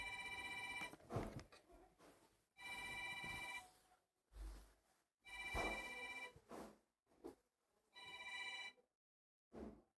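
A telephone rings in repeated electronic bursts of about a second each, separated by short gaps, steady and fairly faint, with no talking over it.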